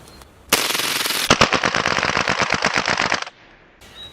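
Rapid-fire burst from a double-stack 2011 pistol with a short stroke kit for an extreme fire rate, about three seconds of dense, loud shots close by with a sharper opening crack, no voices.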